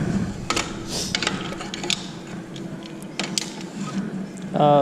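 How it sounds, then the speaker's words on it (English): Ratchet strap or clamp being tightened onto a plastic lighting truss, several sharp clicking ratchet strokes close by, mixed with handling noise and faint background sounds. "I'll probably do like 3 ratchets, right?"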